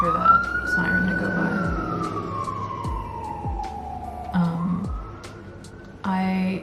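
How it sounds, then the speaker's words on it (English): A siren wails and slowly sweeps down and back up as it passes nearby, with a voice talking over it and scattered clatter. "I'll wait for that siren to go"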